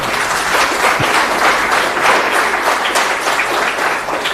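Loud, sustained applause from a large audience at a silver jubilee celebration, many hands clapping together at an even level the whole time.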